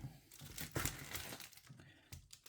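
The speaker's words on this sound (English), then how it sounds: "Peel off in one go though." Plastic film is peeled from a beef and pancetta ready meal tray, heard close up as a short crinkly tearing and crackling with a few sharp snaps.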